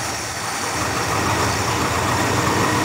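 An unseized 1965 Mercury engine runs at a steady idle, producing a constant, dense, noisy rumble that stays loud and close throughout with no change in pace.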